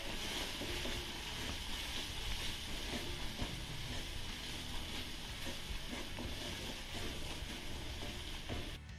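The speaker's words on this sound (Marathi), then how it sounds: "आता हे घातलेले सगळे मसाले आपल्याला 1 मिनिटभर चांगले परतून घ्यायचे." Turmeric, coriander and garam masala sautéing in a hot pan, a steady close sizzle with occasional stirring scrapes running evenly throughout, no voices.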